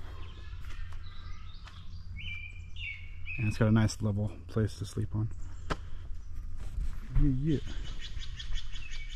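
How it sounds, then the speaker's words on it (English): Birds chirp and call in bursts through green woodland at Pantoll Campground, campsite 5, a steady scatter of tweets near and far while someone talks over them. "Birds are going off."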